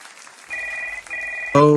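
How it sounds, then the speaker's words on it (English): An old telephone rings with a steady bell tone, broken by a short gap and then starting again, before a louder burst of sound cuts in at the end. "Oh, there it goes, my old phone."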